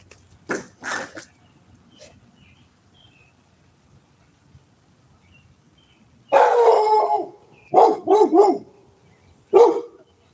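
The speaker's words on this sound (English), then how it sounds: "go see what he's barking at" A dog barks in short bursts: a couple of faint early barks, then a quiet stretch, then several loud, close barks in quick clusters near the end.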